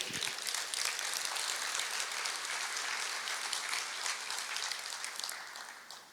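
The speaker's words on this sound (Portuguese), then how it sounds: "Pode aplaudir." A church congregation bursts into sustained applause after a sermon point on hope and peace, a dense, steady wash of clapping that holds for several seconds before gradually thinning out at the end.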